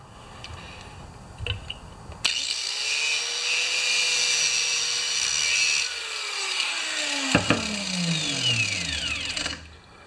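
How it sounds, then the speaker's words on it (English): An angle grinder cuts off a metal stud on a homemade piston stop, starting with a sudden loud whine that holds steady for several seconds, then dips in pitch under load and winds down. "Cut the stud right off there"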